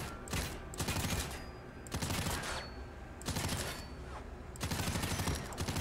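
An assault rifle mod in Fallout 4 fires in long automatic bursts, four loud sustained volleys of rapid cracking shots with short pauses between them and no talking.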